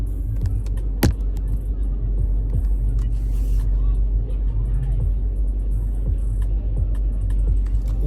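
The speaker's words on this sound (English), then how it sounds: "Oh, this is the Hummer truck." A big Hummer truck rolls along a rainy downtown Denver street, its low engine rumble steady under constant traffic and wet road noise, with a sharp knock near the start.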